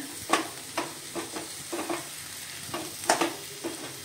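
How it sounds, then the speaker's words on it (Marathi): Roasted peanut powder is stirred into a curry mix in a pan: a soft sizzle under a series of separate spoon scrapes and taps, roughly one every half second, close and with no voices. "मिक्स करून घेऊया।"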